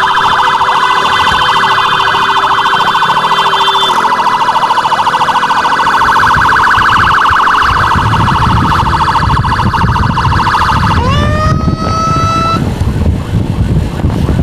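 Close, loud emergency siren from an ambulance on an urgent patient run through traffic, sounding continuously with a warbling cycle that changes pattern partway through and then shifts to a rising wail near the end, over road noise.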